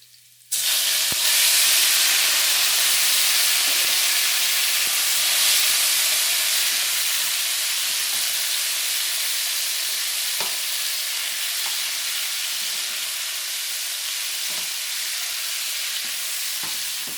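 Steady loud sizzling as tomato hits a pan of browning garlic, a sudden hiss that starts abruptly and holds constant, with occasional faint clicks of stirring, close and alone.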